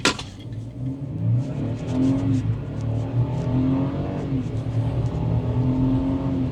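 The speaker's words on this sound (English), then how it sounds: "We're going to come right out here and we're going to do a 0 to 60 real quick." A midsize turbocharged pickup truck accelerates hard from a standstill to 60 mph, its engine droning and climbing steadily through the gears at close range for several seconds, with no talk over it.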